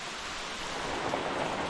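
Heavy rain pours steadily onto a camp shelter during an overnight hike in Tyresta National Park, a dense, even hiss that stays loud and close throughout with no voices.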